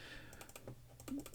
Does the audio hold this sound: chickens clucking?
no